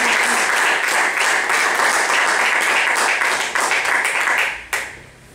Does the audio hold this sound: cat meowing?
no